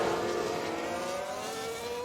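Race cars in the racing game F1 Manager 2022 on the Spa circuit, a steady blended engine drone at high pitch with whining tones, continuous and moderately loud with no talk.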